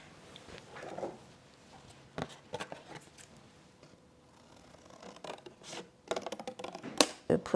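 Scissors cut through painted scrap paper in a series of close, uneven snips with short pauses between them. The last cuts come quicker and louder.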